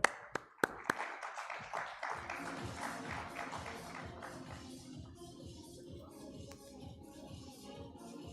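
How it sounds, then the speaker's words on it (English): Audience applause at a sustainable cities forum summit in an indoor hall: a few sharp claps, then a sustained ripple of clapping from a modest crowd, fairly faint, slowly thinning toward the end. "let's give a big round of applause to our Consul General from France in Bangalore"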